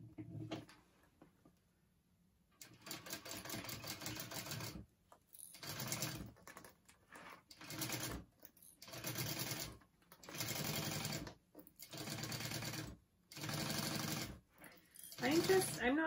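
A sewing machine stitches a Trailblazer convertible backpack in about seven bursts of rapid whirring, each a second or so long and separated by short silent pauses as the bag is shifted under the needle.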